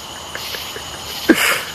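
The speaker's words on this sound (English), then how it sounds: "I like how those crickets sound." Crickets chirp in a soft, regular pulse with one brief sharper click near the end.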